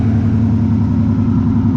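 A shop truck's engine, freshly swapped in, runs steadily at idle while warming up, a loud, close, continuous low rumble with a slightly uneven pulsing beat and no voices.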